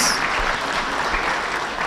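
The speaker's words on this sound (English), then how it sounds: "can we give him a round of applause" A room of people at a National Assembly induction event applauds the governor after his talk, a steady wash of many hands clapping, moderately loud and unbroken throughout.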